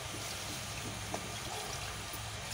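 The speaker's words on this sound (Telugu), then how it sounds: "ఇందులో 1/2 లీటర్ వాటర్ వేసుకుంటున్నాను." Half a litre of water poured into a pan holding jaggery, a steady, even liquid rush running throughout at moderate level with no voices.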